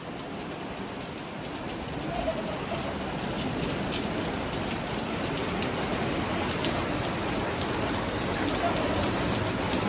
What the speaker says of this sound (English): good amount of rain today.